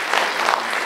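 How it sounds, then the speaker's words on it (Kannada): A brief burst of clapping from an audience at a film event, dense and lively, with a few sharper individual claps standing out. "ಒಂದು ದೊಡ್ಡ ಚಪ್ಪಾಳೆ ಬರಬೇಕು ಪ್ಲೀಸ್"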